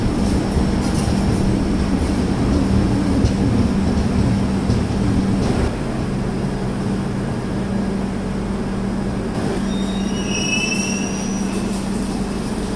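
Vizag–Secunderabad Duronto Express rolling through Rajahmundry station on platform 2 without stopping, heard from on board: a steady loud rumble of wheels and carriages with a sustained low hum and brief high wheel squeals near the end.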